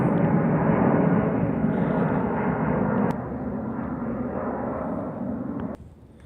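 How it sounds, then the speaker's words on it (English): Broadband rumble of an airplane passing overhead outdoors near a two-cylinder Kubota diesel, steady and fairly loud throughout, easing slightly partway and dropping off near the end, with no talk. "an airplane wants to fly over when I'm making my video"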